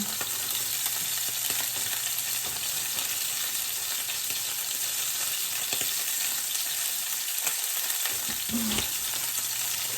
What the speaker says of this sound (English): When oil's hot, carefully add the spinach in batches, stirring until slightly wilted